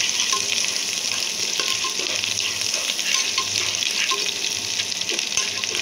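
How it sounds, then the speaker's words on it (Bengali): Onion and garlic fry in oil for a dal tempering, a steady, fairly loud broadband sizzle running throughout with faint scattered crackles and occasional light clinks, no voices. "প্রথমে পেঁয়াজ আর রসুন ভেজে নিচ্ছি।"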